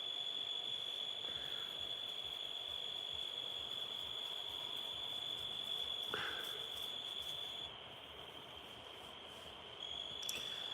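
Crickets chirping by a river at night, one insect close by: a steady high-pitched trill that runs unbroken through the whole stretch, loud and near, over low background noise with a few faint knocks.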